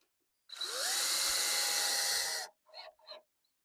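Power drill driving a 3/4 inch construction screw with a washer: one close, loud two-second whirring run with a rising pitch, followed by two quick short bursts as the screw seats.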